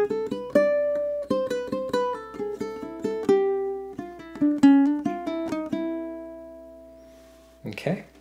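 A low G ukulele picks the opening measures of a Venezuelan waltz, clear plucked notes in a lilting triple rhythm, close and alone, fading out before a short voice at the end.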